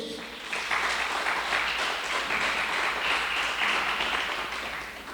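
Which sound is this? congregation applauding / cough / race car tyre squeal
congregation applauding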